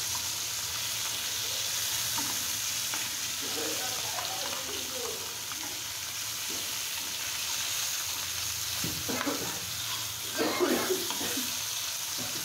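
Rohu fish pieces frying in a pan on the stove, a continuous sizzle with occasional scrapes as the fish is turned, under faint background voices.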